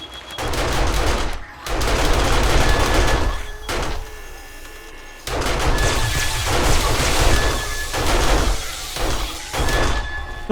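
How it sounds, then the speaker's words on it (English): Rapid automatic gunfire from SMG turret traps in 7 Days to Die, loud dense bursts of crackling shots repeating in several volleys with brief pauses between them. "So you can see the power of the SMGs."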